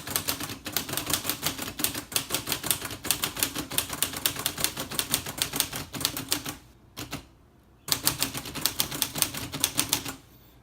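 A 1966 Olivetti Underwood Lettera 32 typewriter types uppercase with caps lock engaged: rapid, steady keystrokes clatter up close, with a brief pause near the middle before the typing resumes.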